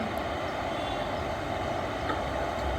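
An electric locomotive fed by overhead wires starting to move away from a station platform, giving a continuous close rumble with a broad hiss and a brief higher squeal, no talking.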